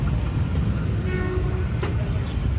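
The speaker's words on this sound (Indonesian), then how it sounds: "Ini nampaknya ada KRL yang melintas dengan palang tidak berbunyi." KRL commuter train passing a level crossing whose barrier and alarm are not working, a steady loud rumble of rail traffic close by with a faint brief tonal squeal, no voices.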